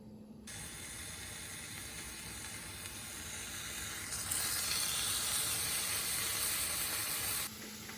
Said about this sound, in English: Let's start by cooking our bacon.